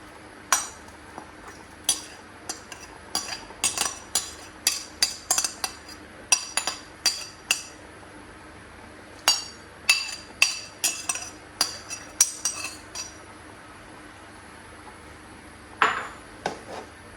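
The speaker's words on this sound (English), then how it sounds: "I will go ahead and give that a good mix" A spoon clinks and taps against a metal pot, stirring blended crayfish and yellow pepper into Igbo oha soup with shrimps and prawns, in quick irregular bursts of sharp close knocks with short pauses between.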